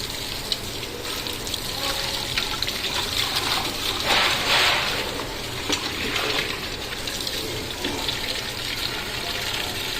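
Water is poured into a cooking pot holding washed leaves for boiling, a steady rushing gush that runs continuously at close range with no one speaking.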